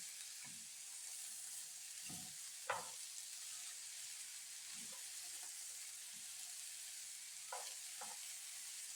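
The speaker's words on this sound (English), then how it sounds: "I'm gonna add my broccoli, okay? My broccoli. Saute that all together." Broccoli and other vegetables sauté in a pan, giving a soft continuous sizzle with occasional faint stirring knocks and scrapes scattered through the clip. The sizzle stays quiet and steady, with no speech.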